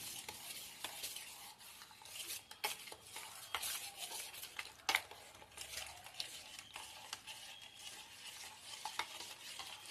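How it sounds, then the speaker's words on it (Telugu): Junnu, a colostrum-style milk pudding mixture, stirred by hand in a bowl: constant wet swishing with irregular clinks and taps, moderately close and fairly quiet, with no voices. "మీ దగ్గర విస్తరు ఉంటే దాంతో కలుపుకోండి మన కుండలు ఏమి లేకుండా నీట్గా కలిపేసుకున్నాం"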